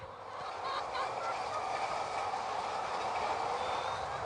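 Many hens on an organic egg farm at feeding time, a dense steady clucking and murmuring chorus from a large flock filling the barn, continuous and fairly loud throughout with no talking.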